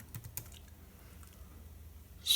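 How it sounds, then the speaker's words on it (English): Typing on a computer keyboard while entering a Squarespace login, a quick burst of faint soft key clicks at the start, then near quiet, ending with a louder rustle, with no talking. "So we're going to type in"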